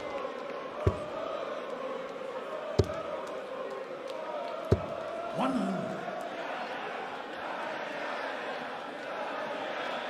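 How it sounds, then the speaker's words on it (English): Darts arena crowd of about 2,500 in Amsterdam: a continuous murmur of chatter and rowdy noise with a few sharp thuds, a brief cheer rising near the middle, and a commentator talking over it. "Party time starting to rev up again in the Amsterdam crowd"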